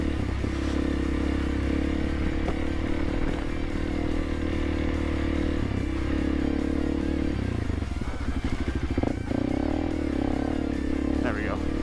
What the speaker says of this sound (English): I sped up and pushed the clutch in, so no torque was being applied whatsoever, and I didn't slide at all this time